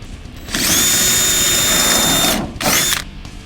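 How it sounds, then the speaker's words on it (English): A power drill whines loudly for about two seconds, stops briefly, then bores again in a short second burst, close and steady, drilling an 11/32-inch hole through a camper tie-down into a truck bed. "our first step is to drill an 11/32 hole down through the tie"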